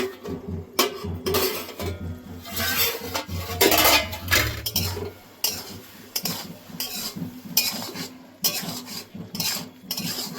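A metal lid and spoon clatter against a cooking pot of bottle gourd in a home kitchen, irregular clinks and scrapes spread throughout, fairly close.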